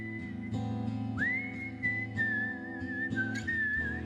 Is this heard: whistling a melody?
yes